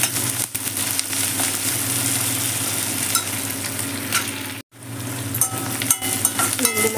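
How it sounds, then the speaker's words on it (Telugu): Grated ginger and onion frying in a pan, a loud, steady close-up sizzle that runs almost unbroken, with one brief gap and light stirring scrapes near the end. "వేసేసుకొని ఫ్రై చేసేయండి."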